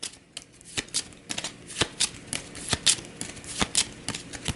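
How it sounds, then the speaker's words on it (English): A deck of game cards for the Aeon's End board game being riffle-shuffled up close, a rapid series of crisp flutters and snaps with no talking. "we'll go ahead and give this our first shuffle"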